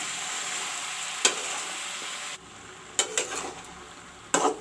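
Palak curry with potato, brinjal and masala being stirred in a pan, a steady sizzle broken by several sharp spoon scrapes and clinks against the metal, close and clear.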